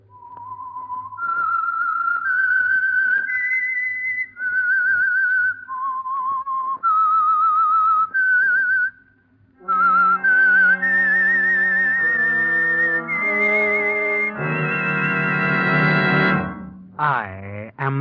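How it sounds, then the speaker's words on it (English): Whistled theme signal of The Whistler radio mystery program: a lone, clear human whistle carrying a slow, eerie melody of sustained notes, followed by an orchestral swell. "That whistle is your signal for the Signal Oil Program"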